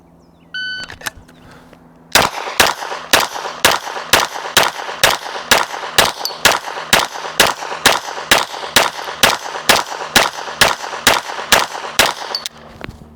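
A short electronic shot-timer buzzer beeps, then about twenty sharp pistol shots ring out in a fast, steady rhythm, loud and close.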